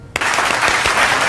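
Audience at a Hindi poetry gathering giving loud applause to welcome a performer, a dense burst of clapping that starts abruptly and stays strong throughout.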